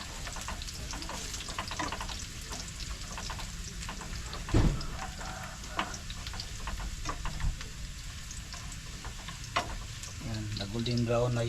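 Garlic and onion frying in a pan for adobo, a steady close sizzle throughout with occasional stirring clinks and scrapes.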